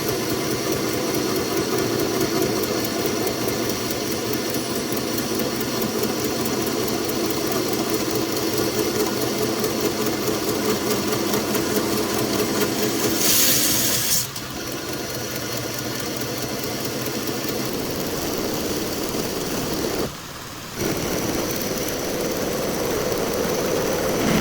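A belt grinder running a 120 grit belt across metal gives a steady, loud motorized whir with gritty abrasive hiss, continuous throughout. A brief dip near the middle and a short gap later mark the workpiece lifting off the belt.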